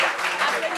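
Studio audience applause during a French talk show, a short dense wash of clapping that stays fairly steady and loud across under a second.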